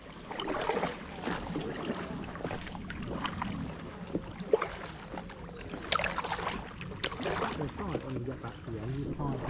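Paddles splash and dip as an inflatable kayak moves through water, with irregular sloshing strokes, wind buffeting and people talking nearby.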